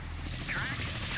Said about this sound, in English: Always shoot down helicopters, because they are annoying little things that will detect your fleet if given the opportunity.